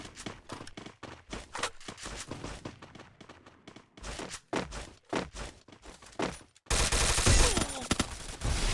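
Rapid bursts of Free Fire video game gunfire crackle repeatedly with brief gaps, then a sustained loud barrage of shots at the end, sharp and close, with no voices.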